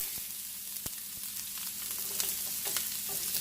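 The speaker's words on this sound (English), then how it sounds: "we're going to saute the onion" Onion sautés in a pan with a steady, fairly quiet sizzle and crackle, punctuated by a few soft clicks of stirring, with no talking.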